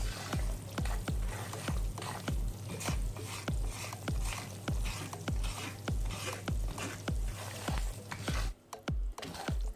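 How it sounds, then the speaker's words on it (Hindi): Semolina roasting dry in a pan while a spoon stirs it, a soft continuous sizzle broken by regular scraping strokes, about two per second, close and quiet. "जब आप सूजी को भून रहे हो तो इसमें आप जो चम्मच है वो मुसलसल हिलाइएगा"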